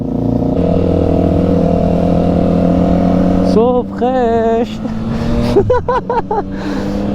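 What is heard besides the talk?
motorcycle engine in a tunnel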